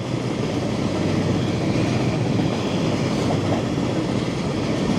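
A passenger train runs steadily close by near the India border, a continuous loud rumble of wheels and carriages with no talk.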